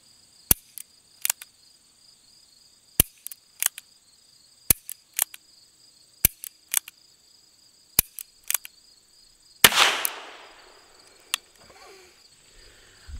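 Sharp gunshots from Ruger Wrangler revolvers ring out in irregular clusters over about thirteen seconds, a dozen or so crisp cracks with quiet gaps between them, one louder blast near the end, and a steady high insect-like hiss running underneath.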